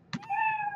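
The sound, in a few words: cat meow sound effect played in Scratch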